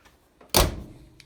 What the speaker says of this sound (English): So all doors shut really nicely.